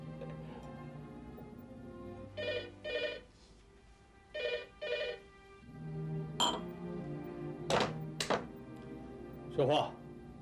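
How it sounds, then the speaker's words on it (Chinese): An office telephone in a 1998 Taiwanese TV drama rings in two paired bursts, fairly close and clear, and voices follow afterwards. "汪经理，三线你的电话。"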